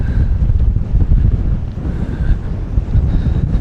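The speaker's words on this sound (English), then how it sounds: "I might have to make sure that wind's picking up a bit." Strong wind buffets the microphone in steady gusting rumbles on a large fishing pier on the waterfront at Campbell River, Vancouver Island, loud and continuous with no talk.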